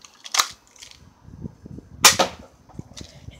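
Two sharp cracks from a BB gun fired outdoors, one about a second apart from a louder second shot, each a short snappy pop with faint rustling between.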